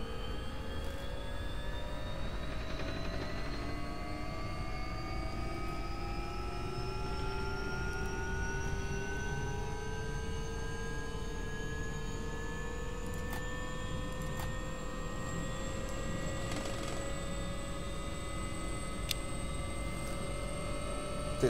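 An AW-139 helicopter's turbine engine spools up in the X-Plane 11 flight simulator, a steady roar under a whine that climbs slowly in pitch across the whole stretch, close and constant with no speech.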